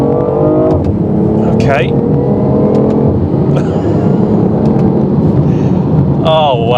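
A three-cylinder sports car accelerates hard in first gear from inside the cabin, its muted engine droning loudly and rising, while someone speaks briefly over it.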